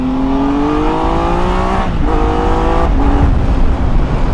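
A Triumph Tiger 1200 Alpine motorcycle engine in Sport mode accelerates with a steady rising drone, pitch climbing through two gear changes, loud and close with no talk over it.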